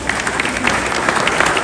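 Steady, dense applause from an audience at the 2024 Africa Basketball Festival, loud and close with many hands clapping in a continuous rush.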